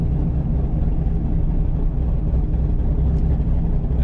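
Supercharged C7 Corvette with straight-pipe exhaust heard from inside the cabin, a loud, steady low engine drone and rumble holding evenly throughout, with no talking.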